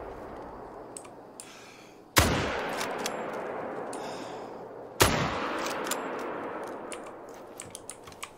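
Two loud rifle gunshots in the hunting video game theHunter: Call of the Wild ring out several seconds apart, each with a long echoing decay, amid faint clicks and quiet outdoor ambience.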